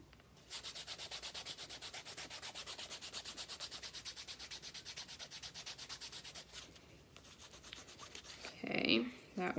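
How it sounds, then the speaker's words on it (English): Canvas rubbed briskly back and forth along a leather edge to burnish it, a close, steady rhythmic scraping for about six seconds, then slowing, with a louder brief rustle near the end. "I'll take my canvas again, and we'll go ahead and rub that down so that you get a really pretty burnish on there"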